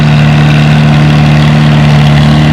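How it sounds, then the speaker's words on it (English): A Formula C pulling tractor at a 3,000-pound King of the Hill tractor pull runs very loud and close, its engine giving a steady heavy drone at a constant pitch with no break. "this Formula C is going to be the first tractor and two-tractor pull-off"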